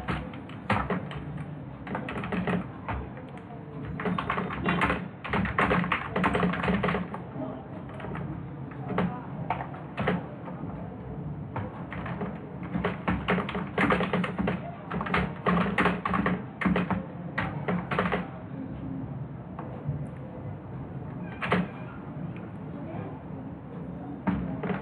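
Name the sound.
typing program code on a computer keyboard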